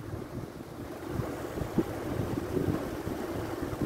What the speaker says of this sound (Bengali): কিরাম জোর দিয়েছে ফ্যানটা কি জানি